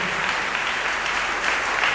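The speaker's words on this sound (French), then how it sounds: "Frappez-moi plus fort, plus fort." A church congregation at a Sunday worship and praise service claps hard and fast, a dense, steady wall of applause filling the whole stretch without pause.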